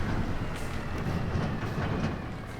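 Train in the video game Farming Simulator 25 rumbles steadily with a rolling, rattling wagon noise and faint periodic clicks, continuous and fairly loud, no speech.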